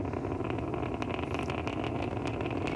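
A SpaceX Falcon 9 first stage climbs away from Complex 39A at Kennedy Space Center carrying the SpainSat NG I satellite, giving a continuous deep, rough roar that stays steady and dense throughout.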